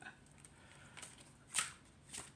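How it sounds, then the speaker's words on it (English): A new Witches' Kitchen oracle card deck is hand shuffled on a table, giving quiet, close riffling bursts of card flicks that peak in two short sharp surges, with no talking. "Hand shuffle."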